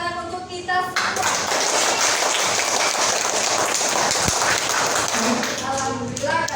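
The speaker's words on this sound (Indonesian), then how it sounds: "Tepuk tangan untuk kita semua" A classroom of students clapping together after a Quran recitation lesson, a steady dense burst of hand claps lasting several seconds, with a teacher's voice speaking briefly before and after.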